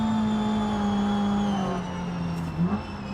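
A modified Renault Twingo in BeamNG drives close by, its engine holding a steady buzzing note that drops as it slows, with a brief skid near the end.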